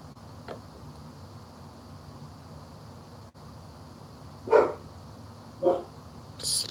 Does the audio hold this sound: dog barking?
yes